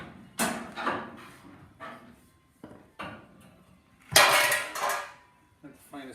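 A metal pry bar working in a shop, giving several sharp metallic clanks and scrapes spread over a few seconds, with one louder burst near the end, close by and loud against a quiet background.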